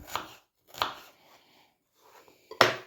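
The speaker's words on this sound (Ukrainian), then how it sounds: "нарізаю цибулю." Three separate bursts of a knife chopping onion on a board, close and fairly crisp, spaced out with quiet gaps and faint softer cuts between.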